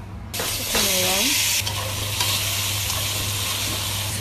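Chicken pieces drop into a hot pan for carbonara and sizzle loudly and steadily, with a brief stirring scrape near the start and continuous frying hiss throughout.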